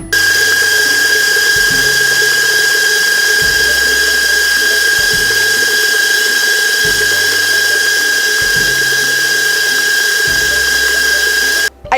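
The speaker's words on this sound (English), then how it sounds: "I should have had my whisk attachment on my mixer, so I put it on and now it looks amazing" An electric stand mixer with a whisk attachment beats lemon bar filling in a loud, continuous mechanical whir, with a high steady whine over a rhythmic clunking pulse that repeats about every second and a half.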